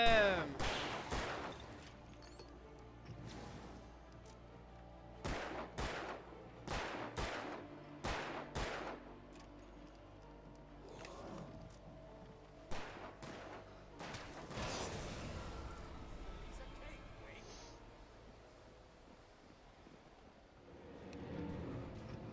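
Gunfire in the video game Alan Wake Remastered, several sharp loud shots in scattered bursts with echoing tails and gaps between them, mixed with game ambience and occasional voices.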